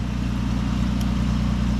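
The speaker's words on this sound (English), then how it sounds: "This is the first time the truck's been running in probably 5 months" A 1952 Dodge B3B truck engine idles steadily after months of sitting, a low, even rumble that holds constant throughout with no revving or voices.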